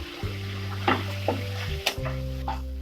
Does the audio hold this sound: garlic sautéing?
yes